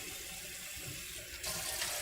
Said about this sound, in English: I'm going to grab a bowl and fill it with water.